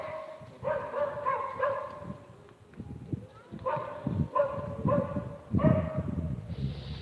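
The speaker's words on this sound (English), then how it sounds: "Nice dog." A dog outdoors gives several drawn-out, tonal barks in separate bursts, moderately close, with quiet gaps of background noise between them.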